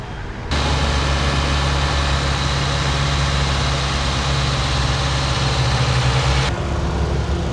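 A new radiator fan motor in a Honda City switches on by itself once the engine reaches operating temperature, a steady loud whirring hum with a low drone that starts abruptly and holds evenly for several seconds before cutting back.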